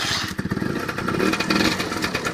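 Peugeot Speedfight scooter starting after repair work: a short whirring starter spin runs straight into a rough, sputtering engine catch and idle, close and fairly loud with no talk.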